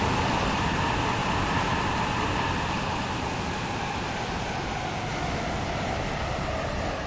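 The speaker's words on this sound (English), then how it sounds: "This train is now approaching Leighton City." Passenger train rolling toward a station, a steady broadband rumble and rush of wheels and carriage noise that holds evenly throughout with no voices.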